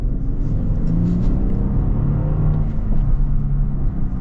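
A 2024 Lexus LX 600 F Sport SUV with its V6 engine accelerating on a road, a steady, deep, close engine rumble and whir that holds strong for about four seconds with no talk.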